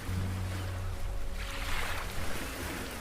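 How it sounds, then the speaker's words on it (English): Ocean surf rolls onto a beach in a steady, continuous wash of waves, with some wind noise and a low hum early on; no one speaks. "Welcome to the beach."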